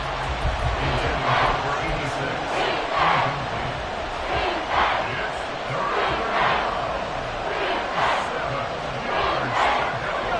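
Stadium crowd in the Madden football video game roars and cheers steadily ahead of a big third down, loud and sustained with swelling bursts throughout.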